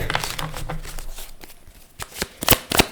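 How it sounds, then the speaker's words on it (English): A deck of tarot cards being shuffled by hand, close up. Soft continuous riffling gives way to several sharp, distinct flicks and snaps near the end, with no voice over it. "I'm just going to shuffle these cards"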